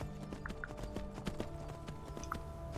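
The horse Shadowmere galloping in the Skyrim video game: a steady run of hoofbeat clip-clops under game ambience, fairly quiet and continuous throughout.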